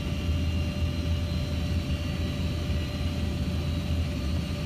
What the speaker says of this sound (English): it's a Cessna taking off